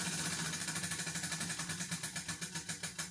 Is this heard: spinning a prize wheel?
yes